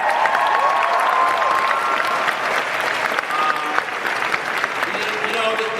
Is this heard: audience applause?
yes